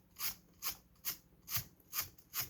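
Stiff brush scrubbing the corners of rotten pine resin wood in a workshop, six quick raspy strokes in an even rhythm, close and fairly quiet with no talk.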